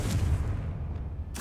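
Confringo blasting spell cast in Hogwarts Legacy, a single heavy booming blast that rolls on as a low rumble for about a second, with a sharp burst returning at the end.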